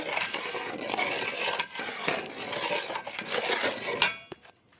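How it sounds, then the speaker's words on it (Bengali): Spices are stirred and scraped into barely warm oil for a Bengali-style sour and spicy mango pickle, giving a dense run of close metallic scraping and clinking that stops abruptly near the end. "এবার বাকি উপকরণগুলো মশলাগুলো এর মধ্যে মিশিয়ে নেব"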